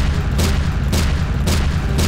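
Four sharp, evenly spaced bursts of gunfire in the video game Garry's Mod cut through a steady low rumble, each shot crisp and loud.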